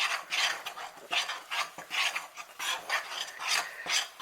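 Gingernut biscuit dough is mixed in a bowl, giving rhythmic scraping, rasping strokes that repeat about twice a second, close and moderately loud with no talk.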